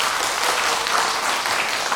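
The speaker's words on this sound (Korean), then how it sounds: "그래서 지금 부울경 이쪽에서 그래도 국회의원 검정단 이걸 만들었던 데 대해서 박수 한번 보내주세요." A lecture audience at a political talk claps together in dense, even applause that carries loud and unbroken from start to finish.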